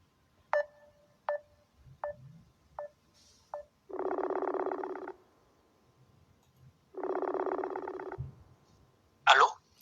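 A phone call is placed: a series of short dialing tones, then two long ringback tones with a silent gap between them, followed by a brief click of the line connecting.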